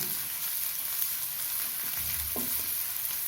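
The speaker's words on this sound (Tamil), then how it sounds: "வெங்காயம் வதங்க உப்பு சேர்த்துக்கலாம்." Chopped onions with salt sauté in a pan, giving a steady, close hiss of frying that runs the whole time, with a brief stir toward the end.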